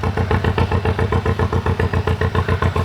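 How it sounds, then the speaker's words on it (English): A Farmall Super MD diesel tractor engine runs steadily at a fair-day harvest festival, thumping in an even, rapid rhythm with a loud, close, chugging exhaust and no talk. "So you're basically your M tractor with diesel engine."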